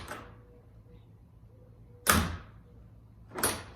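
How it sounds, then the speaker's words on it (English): Two sharp whooshing thuds of a Can-Am Maverick Sport Max UTV door opening and closing, about a second apart, loud and close against a quiet background. "And now, when you open this door,"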